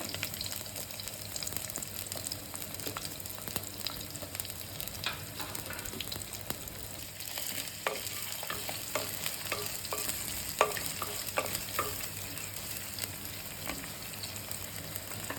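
Sliced shallots, dried red chillies and curry leaves fry in hot oil for a kadala kulambu, a steady sizzle with scraping stirs and light clatters growing busier midway, no talking.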